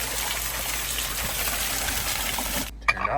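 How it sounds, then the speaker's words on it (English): A basement sump pump kicks on and shoots out a steady, loud gush of water, which cuts off abruptly near the end, leaving a few faint drips and clunks. "we're gonna do a little test here to see if this pump will kick on and off"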